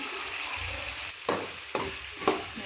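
Potatoes stirred with Kashmiri chili powder and coriander seeds in a pan, giving a steady close sizzle with three distinct scraping strokes of the spoon against the pan.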